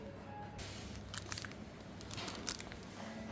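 Someone bites into a Japanese wagashi sweet, giving soft, scattered crunchy bites and chewing, fairly quiet, over a low room hum.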